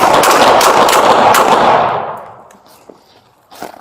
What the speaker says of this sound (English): shots fired